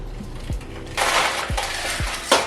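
Stirring a matcha drink with creamer: a spoon or whisk clinks and scrapes against the cup, with a few sharp knocks over a steady swishing of liquid, close and moderately loud.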